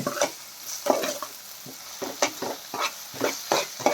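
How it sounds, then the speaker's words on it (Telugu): Tomato and onion frying in a pan, stirred briskly: close, rhythmic scraping strokes about every half second over a soft background sizzle, with no talking. "ఇప్పుడు ఈ టమాటా ఉల్లిపాయ చాలా చక్కగా వేగాయి"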